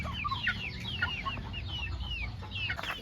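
Hens cluck repeatedly at a poultry and pet seller's yard in Nellore, a busy run of short, overlapping calls over a steady low background hum, fairly close and without any talk.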